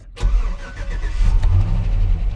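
A 2006 GMC Sierra 1500 regular cab with a 4.8L V8 and an automatic transmission, which has an idle fault, cranks and fires up with a loud close roar. It then runs roughly for a couple of seconds and dies away.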